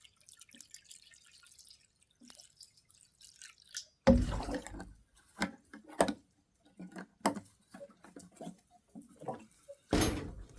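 Water splashes and drips in a bowl as debris is scooped away from elderberries, giving a few loud close sloshes and scattered dripping and clinking sounds, with quiet spells between them.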